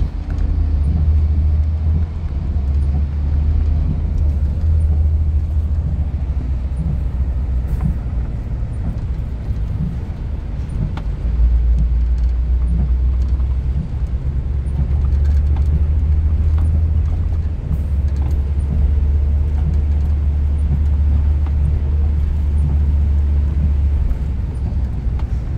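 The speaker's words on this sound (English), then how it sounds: "I'm taking this bus back to Côte-Vertu Metro" Steady low engine rumble and road noise inside an Exo express bus on route 40 between Vaudreuil and Côte-Vertu in Montreal on a rainy evening, loud and continuous with a slight dip midway and no talk.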